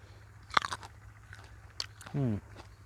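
Someone bites into a ripe jujube fruit, giving a sharp crunch followed by a few soft chewing sounds, close and quiet, with a short burst of speech near the end.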